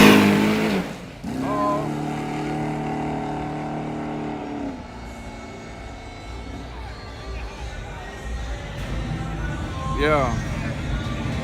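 Engine of a Chevrolet Caprice at a dragstrip shootout, a loud revving rumble that climbs in pitch early, holds steady, then drops back to a rough idle, with crowd noise and talk around it.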